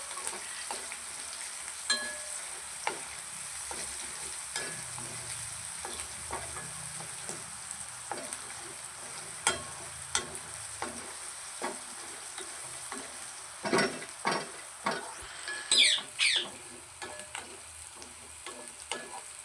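Peanuts fry for poha in a pan with a soft, steady sizzle, punctuated by scattered clicks and scrapes of a spoon stirring, which grow busier and louder toward the end.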